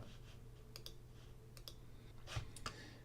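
Faint, sparse computer mouse clicks in quick pairs and singles sound while browser tabs are dragged around a window, against a quiet low hum.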